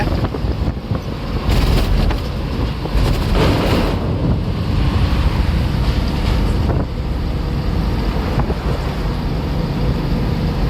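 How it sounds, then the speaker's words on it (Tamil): An empty shipping container rattles and bounces on a truck trailer on the road, under a steady, loud rumble of driving and wind, with repeated knocks and clanks. "இதில் கண்டெய்னர் எப்படி குதிக்குது பாருங்கள் எம்டி கண்டெய்னர் சவுண்டு"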